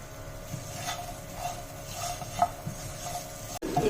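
Pork with garlic leaves frying in a pan, a soft steady sizzle with scraping stirs and occasional light clinks of a utensil, close and fairly quiet.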